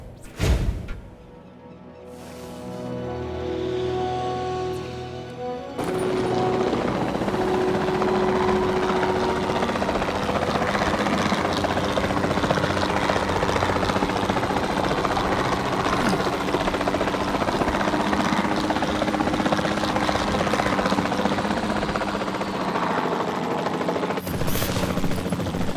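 A helicopter in Jurassic World Evolution 2, flying over an Arizona mission area to tranquilize a dinosaur, makes a steady loud rotor and engine drone. It starts out faint and builds to a full, continuous roar that runs almost to the end.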